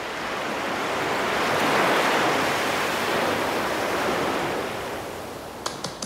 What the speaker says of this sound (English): What about the sound of the waves?